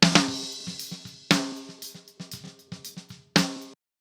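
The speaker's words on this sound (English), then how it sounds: "Let's solo the snare. Sounds like this." A snare drum plays alone, close and dry, with a few hard accented hits among a quick run of lighter strokes, each ringing briefly before dying away.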